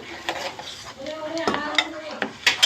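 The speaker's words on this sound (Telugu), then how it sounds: "ఇవన్నీ ఇందులో ఇందులో వేసేసుకొని ఫ్రై చేసుకోవాలి" A spatula scrapes and clatters against a pan while chilies and peanuts fry, giving a soft sizzle under the scraping. The stirring strokes come in short, irregular bursts, close and moderately loud.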